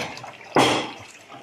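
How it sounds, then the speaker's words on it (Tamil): Dirty municipal corporation tap water gushing out in a sudden strong burst, loud and close, then easing to a steady flow and fading over about a second. "தண்ணி எப்படி வருது பாருங்க."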